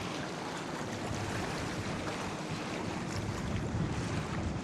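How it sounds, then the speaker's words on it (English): Rough water slaps a small fishing boat from both sides near a seawall, a steady broadband wash of waves and wind noise throughout with no breaks and no talking. "Waves coming from both directions."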